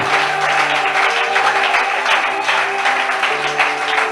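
A church congregation applauding during a sermon, a dense, loud, sustained wash of clapping from many hands filling the room, with no clear voices over it.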